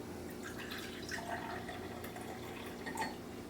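Freshly made juice pours from a masticating juicer, a soft, close trickle with light splashes and drips running steadily, with no one speaking.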